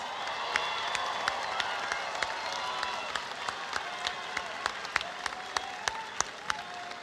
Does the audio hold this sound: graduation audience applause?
yes